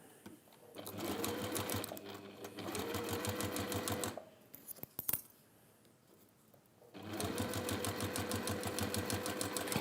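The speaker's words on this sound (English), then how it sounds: "I'm going to sew sort of an 1/8 of an inch, not a full" An electric sewing machine stitches a fabric and cork journal cover in a fast, even mechanical whir, running in two long bursts with a brief pause of clicks and handling noise between them.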